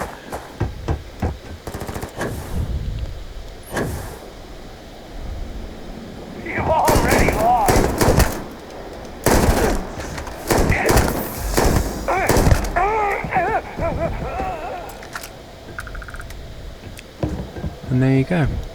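Beowolf rifle from the video game Starfield fires in repeated loud bursts of shots, with someone talking over and between the gunfire throughout.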